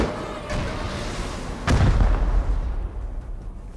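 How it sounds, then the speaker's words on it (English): Rocket blasts in the survival game Rust, launched by players from a rooftop: a sharp, loud explosion strikes about midway, with a deep rumbling tail that fades over the next couple of seconds above a steady background roar. "These guys are shooting rockets from the roof."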